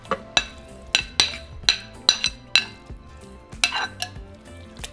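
Shredded meat being stirred back into green chile in an Instant Pot, with a utensil knocking and clinking against the metal pot in a run of sharp, regular strikes, close and loud with no talking.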